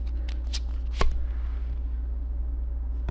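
A deck of cards is shuffled close by in a couple of quick riffling bursts, with one sharp snap near the start and a steady low hum underneath.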